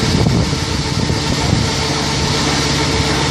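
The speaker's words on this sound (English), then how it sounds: "Okay, this is the washing cycle." A washing device runs its wash cycle, giving off a steady, loud, continuous mechanical hum and whir with no breaks and no talking.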